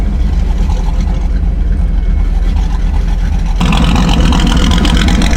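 A 420 hp V8-swapped Jaguar car drives along with a steady, close engine drone that grows noticeably louder and brighter partway through, with no talking.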